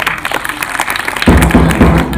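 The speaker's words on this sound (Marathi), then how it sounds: "टाळ्या वाजवा तिच्यासाठी" Schoolchildren at a school's Chhatrapati Shivaji Maharaj birth anniversary celebration break into applause for a girl. The clapping starts partway through, loud and close, after a quieter, murmuring stretch.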